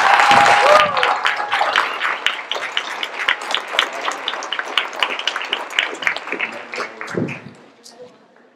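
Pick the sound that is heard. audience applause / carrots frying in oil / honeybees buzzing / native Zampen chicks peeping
audience applause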